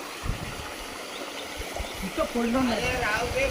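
Water rushes out through a breached earthen embankment of a pond drained for traditional fishing, a steady broadband gush with voices talking over it.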